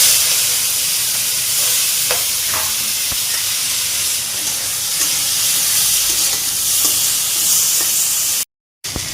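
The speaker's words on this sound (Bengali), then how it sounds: "চিংড়ি মাছ ভাজা হয়ে গেছে।" Prawns coated in salt and turmeric fry in a wok with a steady, close sizzling hiss and faint stirring ticks, cut off by a brief silence near the end.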